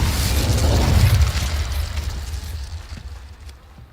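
Fiery spell blasts from Confringo and Incendio casting in the Hogwarts Legacy video game, a loud booming burst that rumbles strongly at first and then gradually fades over a few seconds.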